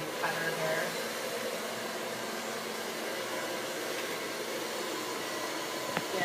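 A hair dryer fitted with a nozzle blows a steady, loud airy roar during a salon blow-dry, running unbroken the whole time.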